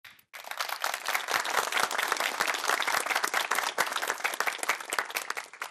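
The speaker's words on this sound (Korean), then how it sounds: "기왕에 치는 박수라면 소리까지 질러서 박수 쳐주면 좋은데." An audience at a Korean talk concert breaks into dense, sustained applause after a brief quiet start. The clapping is loud and close, with many hands beating quickly and unevenly for several seconds.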